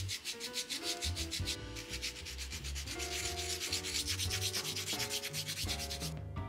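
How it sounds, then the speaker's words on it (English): Hand sanding smooths a homemade posable Mario doll, a steady, close run of rhythmic rubbing strokes with a dry, scratchy texture, continuous and alone without any voices. "the next day I sanded it all nice and smooth."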